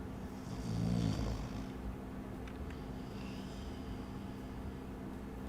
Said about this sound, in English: Maybe there's like a, what do you call it, a snore?